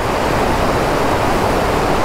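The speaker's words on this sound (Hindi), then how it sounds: "आप जो बीच वाले जो गैप में देख सकते हो, ये फुल फोर्स में पानी बह रहा है।" Water surges at full force through the central gap of a river barrage near a hydroelectric section, a loud, dense, steady roar of rushing water with no break.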